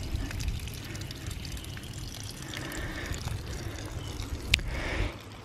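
Water from a ram pump's outlet pours steadily into a 275-gallon tank outdoors, a continuous trickling splash heard up close with a brief sharper knock near the end.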